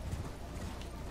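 Horse hooves clip-clopping in the video game Elden Ring, a quiet, even run of soft hoofbeats set against a low game ambience.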